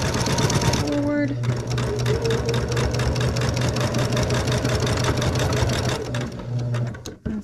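Sewing machine stitching a quilt binding, running in a steady fast continuous whir close by, with a short back stitch before running forward; a brief pause near the end.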